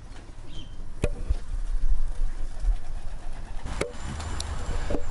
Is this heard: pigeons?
yes